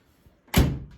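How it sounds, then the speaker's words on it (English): A 1968 VW Beetle door, on a junkyard-find restoration project car, swings shut with a single solid, close thunk after near silence, followed by a brief fading rattle. "Look how nice this door shuts."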